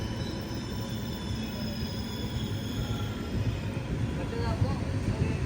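A WP7 locomotive hauling a passenger train rolls into platform 2 at Cheruvathur railway station with a steady, dense rumble of wheels and carriages. It stays close and continuous throughout, with a faint squeal near the end.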